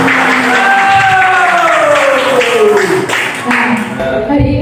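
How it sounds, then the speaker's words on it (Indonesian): A classroom of students claps their hands together in a dense burst, with voices shouting and chanting over the clapping throughout. "Bagus. Tepuk tangan."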